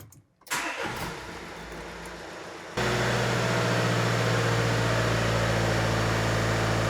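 A diesel engine cranks and catches, then settles into a steady, loud, close idle while cleaning fluid soaks through its DPF filter, with no one speaking.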